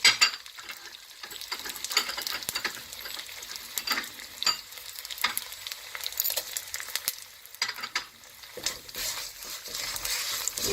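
Gond, an edible gum, fries in hot ghee with a busy, crackling sizzle, while a spoon stirs and scrapes through the pan in uneven bursts. No one speaks.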